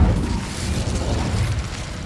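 The Incendio fire spell goes off in the Hogwarts Legacy game, a dense, continuous rumbling whoosh of flame with strong low-end roar, steady and close throughout.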